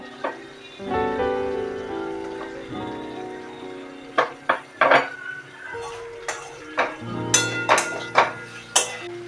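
Fried cauliflower is stirred with spices in a pan for gobi rezala, a spatula scraping and knocking against the metal pan in a run of sharp, irregular clinks over a low sizzle, close by.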